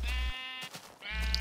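A Minecraft sheep bleats twice, loud and close, two wavering nasal calls separated by a short gap.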